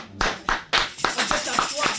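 A church congregation applauding, with several sharp claps at first that build into steady, dense clapping, close and loud for about two seconds.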